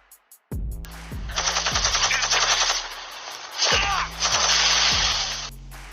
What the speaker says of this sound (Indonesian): langsung menembaki tentara Nazi yang nyaris membunuh Alexander.